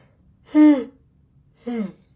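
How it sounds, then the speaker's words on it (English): A person yawns twice, the first a long, loud voiced yawn and the second, about a second later, shorter and softer, both alone against a quiet room. "There's the signature yawn."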